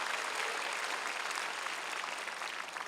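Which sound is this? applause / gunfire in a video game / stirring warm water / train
applause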